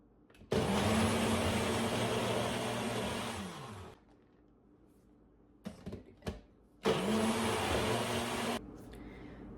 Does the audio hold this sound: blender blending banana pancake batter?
yes